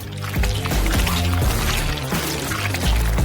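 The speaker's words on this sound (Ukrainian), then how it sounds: "Заливаю це в форми лего." Melted chocolate is poured into Lego-shaped molds, a loud, close, continuous liquid pour with soft rhythmic gurgling pulses over about three seconds, with no speech.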